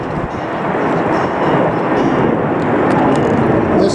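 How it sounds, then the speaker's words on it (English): A fixed-wing airplane taking off near Belfast Harbour produces a loud, steady broadband engine roar that holds strong and close for the whole stretch, with no talk over it. "Oh, a plane going off."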